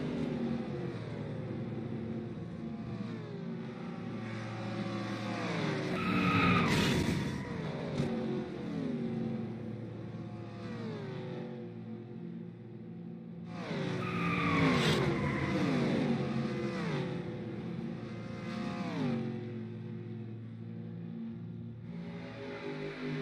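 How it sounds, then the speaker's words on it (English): Stock cars racing at Indianapolis Motor Speedway, engines roaring loudly as packs sweep past in two big surges with rising and falling pitch, a steady drone of more cars between them. "Very typical for stock car racing here at Indianapolis Motor Speedway."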